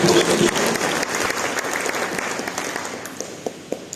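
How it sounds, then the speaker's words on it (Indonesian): Church congregation applauding during a sermon, a dense burst of many hands clapping that starts strong and gradually thins out, leaving a few scattered claps near the end. "Mari kita berikan tepuk tangan bagi Yesus."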